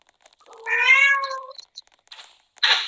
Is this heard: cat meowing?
yes